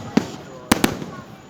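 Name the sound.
fireworks exploding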